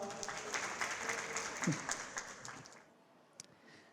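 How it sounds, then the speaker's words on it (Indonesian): Audience applause at a stand-up comedy show, a steady patter of clapping that runs for under three seconds and then stops abruptly, leaving near silence with one faint later sound. "Tepuk tangan dulu dong."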